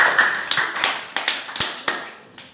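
A few people clap for a child reciting a desi nursery rhyme, a loose burst of nearby hand claps with separate sharp slaps that thin out and fade over a couple of seconds.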